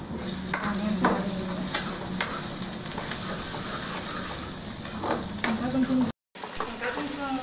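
Onions frying in a pan until golden, a steady close sizzle with repeated stirring scrapes against the pan, fairly loud, with a short gap of silence near the end.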